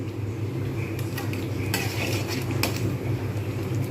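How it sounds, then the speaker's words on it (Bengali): Dal is stirred in a pot as it comes to a boil, a low bubbling rumble punctuated by several sharp scrapes and clinks of a spoon against the metal. "এর মধ্যে আমি সমস্ত ডালটা ঢেলে দিলাম এইবারে ভালোভাবে নেড়ে দেবো একটু ফুটবে"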